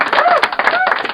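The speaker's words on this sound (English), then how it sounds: "another round of applause for Out the Mud Media" Applause for a podcast crew, recorded in a storage-unit studio: a dense, steady wash of clapping runs through the whole short stretch, with a tonal voice-like whistle or cheer riding over it.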